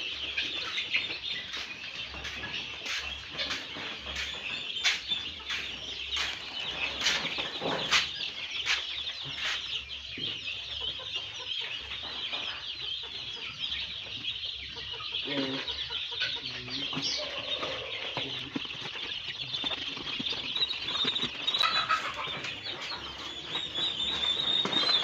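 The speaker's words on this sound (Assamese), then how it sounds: "তো এতিয়া টাৰ্কি পোৱালি কেইটামান ভৰাওঁ, হোৱাইট কালাৰ অকল, কেইটাবা আছে।" Turkey chicks and local chicken chicks in a box, a steady chorus of high, shrill chirping, fairly near, with occasional knocks and handling noises and some talk.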